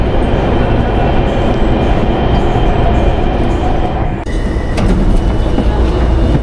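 A Taipei MRT Green Line train rides with a loud, steady rumble and rushing noise heard from inside the car, with a brief dip partway through.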